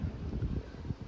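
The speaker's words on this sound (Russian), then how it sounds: "Смотрите, какой у нас ветер." Wind gusting across a balcony, a steady low rumble of buffeting against the microphone with uneven surges and no voices.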